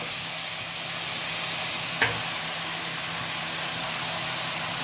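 Chicken pieces stirred in hot oil with fried onions, giving a steady loud sizzle and hiss throughout, with one brief clink of a utensil midway.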